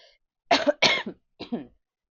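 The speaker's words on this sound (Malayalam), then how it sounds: "സംസാരിക്കുമ്പോ എനിക്ക് ചുമ കൂടുന്നു കേട്ടോ" Three short, harsh coughs close to the microphone, the second pair coming in quick succession, then silence.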